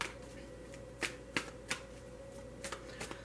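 Tarot cards from a deck are shuffled close by in a series of short riffling bursts, several quick flutters at irregular intervals over a low steady hum.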